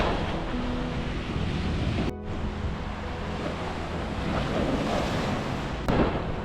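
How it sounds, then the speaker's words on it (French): Sea waves breaking at a Camargue shore, a steady loud rush of surf mixed with heavy wind buffeting the microphone, continuous throughout with no voices. "Il y a de la vague sévère."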